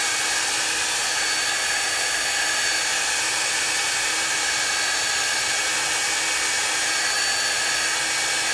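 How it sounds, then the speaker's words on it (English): A handheld blow dryer runs continuously up close, a loud steady whooshing roar of fan and airflow drying a paper craft piece, with no talking. "reach for the blow dryer, and then we're going to dry that."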